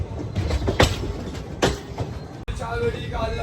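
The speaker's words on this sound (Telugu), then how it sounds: "మెల్లగా కాజీపేట్ స్టేషన్ లోపలికి అయితే వెళ్ళిపోతున్నాం." Krishna Express creeps into Kazipet Junction station, a rumbling carriage interior with a few sharp clanks and knocks, a brief dropout, and faint voices in the background.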